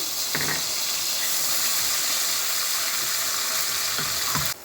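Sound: onions and spices frying in pan

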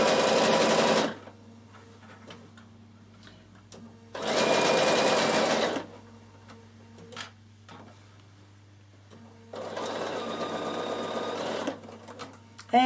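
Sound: Bernina sewing machine stitching dress side seam

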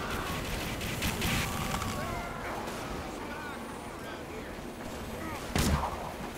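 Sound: gunfire in the video game Team Fortress 2

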